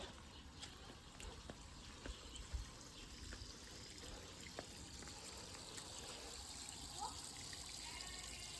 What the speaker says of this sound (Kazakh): Суды ашып болдым енді. Біраздан бері ағып тұр су.